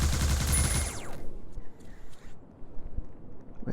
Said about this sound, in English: Where did that gunshot come from?